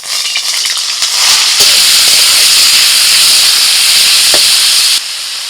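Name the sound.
frying hopa greens in oil in a kadai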